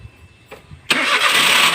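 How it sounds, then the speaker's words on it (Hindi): A car engine cranks and catches abruptly after a quiet moment, then settles into a loud, steady running roar close by. "स्टार्ट कर गाड़ी यार।"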